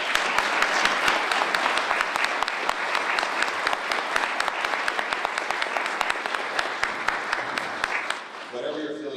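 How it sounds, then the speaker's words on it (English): A room full of people at a congressional candidates' forum for Maryland's 6th District applauds steadily for about eight seconds before the clapping fades out and a voice begins to speak. "Let's give these gentlemen a round of applause."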